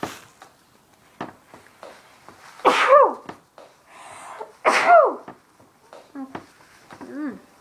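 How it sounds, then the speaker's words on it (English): Two loud, sharp sneezes break out a couple of seconds apart amid quieter sniffs, clicks and small noises. "Gotta sneeze in my nose."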